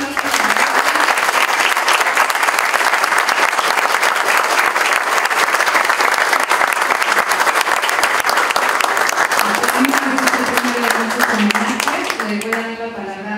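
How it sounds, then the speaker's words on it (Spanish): Loud, dense applause from an audience at a tribute to Beatriz Zamora at Mexico's Salón de la Plástica, sustained for about thirteen seconds before thinning as a voice begins speaking over it. "Pues un aplauso, un gran aplauso."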